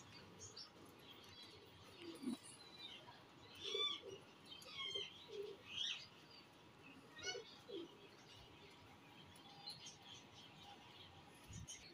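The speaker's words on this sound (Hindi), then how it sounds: "ओरिजिनल रॉयल टैडी कबूतर है माशाल्लाह।" Soft, low cooing of Royal Teddy pigeons repeating at intervals, mixed with faint chirps and rustling against a quiet background hum.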